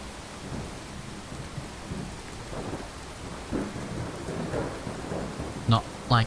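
Steady rain pours with low rolling thunder in a Fallout 4 thunderstorm, the rumbles swelling now and then under a constant hiss of falling water.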